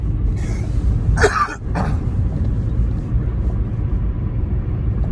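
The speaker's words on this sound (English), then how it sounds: "I'm up here coughing all crazy." A few quick, harsh coughs sound close by over a steady low rumble of engine or traffic noise.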